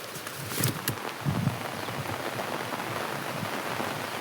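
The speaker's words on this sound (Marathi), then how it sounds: "आता इकडून पाऊस आला, आवाज येतो का तुम्हाला पावसाचा बघा." Rain pours steadily through a forest in a strong wind, a dense continuous hiss with a few louder close patters early on, no voices.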